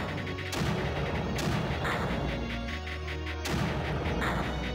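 Mortars firing in the strategy video game Creeper World, two or three heavy booming blasts spaced a couple of seconds apart over a dense rumbling game soundscape.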